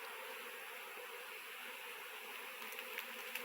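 European Italian honey bees buzz steadily during a honey harvest, a faint, even drone with no voices over it.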